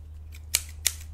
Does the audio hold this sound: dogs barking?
no